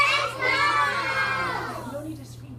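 A group of children shout answers together during a classroom read-aloud, a loud burst of overlapping young voices that fades out after a couple of seconds.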